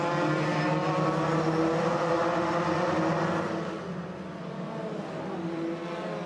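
FIA F3 European Championship race car in a 2013 race, engine droning steadily at high revs as it passes on track, loud and sustained before easing slightly toward the end, no talk.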